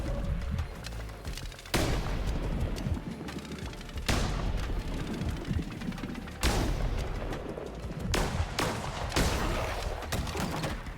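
Gun firing in Cult of the Lamb, with loud repeated bursts of booming shots and rapid fire that hit hard at several points among continuous dense game noise.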